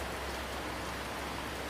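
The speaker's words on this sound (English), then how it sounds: "It's raining here." Steady rain falls outside on a farm, a dense, even hiss of drops on surfaces, constant and fairly loud with no pauses or voices.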